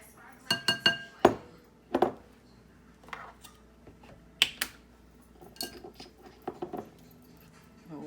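A metal teaspoon clinks and taps against a bowl while ingredients are measured out for crab cakes. The sharp knocks come in scattered, irregular clusters, close and fairly crisp, with quiet kitchen pauses between them.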